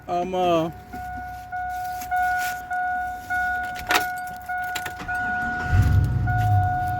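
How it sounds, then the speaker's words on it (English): A 1972 Chevrolet Nova project car starts: a warning chime pulses steadily for several seconds, and then the engine catches and settles into a low, close rumble. "I'll start up the car."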